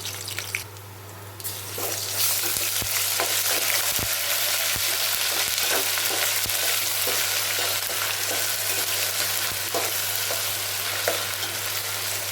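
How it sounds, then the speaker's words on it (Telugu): One spoonful of ginger garlic paste frying with browned onions in a pan, a steady loud sizzle that continues throughout with scattered crackles and pops, close up and with no talking. "ఇది పచ్చి వాసన పోయేదాకా వేగనిద్దాం."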